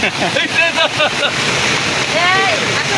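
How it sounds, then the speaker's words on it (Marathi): A strong stream rushes in a loud, steady roar at a catfish fishing spot, with voices calling out over the churning water. "पाण्याचा प्रभाव वाढलेला आहे"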